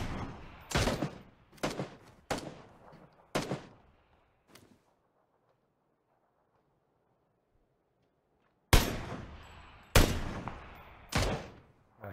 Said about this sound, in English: A headshot. Shooting back.